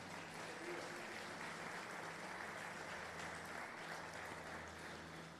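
A church congregation applauds during a worship service, a steady dense wash of many hands clapping at once, sustained and fairly even throughout without pause.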